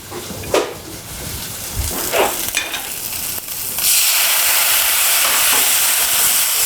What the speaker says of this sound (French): On va pouvoir déglacer avec le vin blanc.